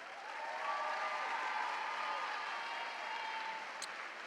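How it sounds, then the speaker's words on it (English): Steady applause from a large audience at a college commencement ceremony, sustained and even for several seconds with no talk over it. "Audience, join me in applauding our student speaker one more time."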